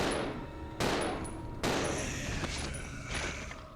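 Gunfire in Resident Evil Zero HD Remaster, several loud sharp shots in a quick uneven series, each with a short ringing decay, with no talk over them.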